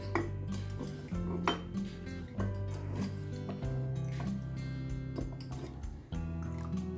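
Metal spoon scraping and clinking around a pot while haleem topping is stirred together with oil stock, steady close scraping with sharp clanks and a tonal hum underneath.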